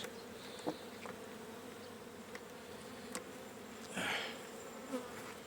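Honey bees buzz around an open hive in late summer, frames packed with honey and pollen; a steady low drone carries throughout, with a few louder bees passing close and one swell of buzzing near the end.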